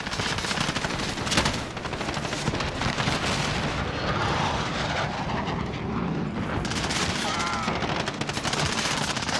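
Dense gunfire from a Call of Duty: Modern Warfare multiplayer match, with loud, continuous automatic bursts and booming impacts filling the whole stretch and no pause.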